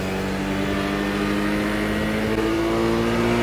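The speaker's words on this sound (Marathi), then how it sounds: "1 मिनिटात गाडी चालू करून दिली." A Hero scooter engine running and revving after being started, a steady close motor drone with rising pitch toward the end, no talk over it.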